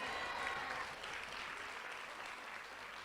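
Applause fills a graduation and white coat ceremony hall. The audience claps steadily and evenly throughout, and the sound is fairly faint and distant.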